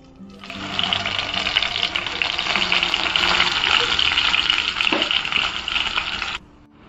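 Ground masala paste hits hot oil for a prawn curry and sizzles loudly and steadily for several seconds before stopping abruptly, with faint clinks under the hiss.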